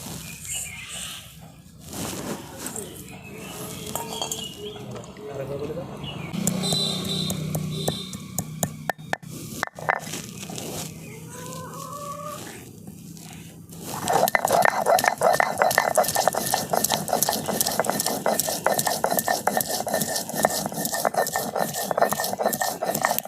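Green chillies, ginger, whole cumin, coriander seeds and black peppercorns being ground together on a stone slab. Scattered knocks and scrapes give way to a dense, rhythmic grinding that grows louder and continuous, with no speech.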